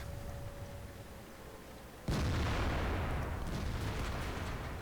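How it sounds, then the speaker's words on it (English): An IS-7 heavy tank fires its main gun in World of Tanks, a single heavy boom at mid-clip that breaks a quiet engine hum and rolls into a long, loud rumbling decay. "I don't know why this IS-7 decides to shoot me here instead of the FE-215."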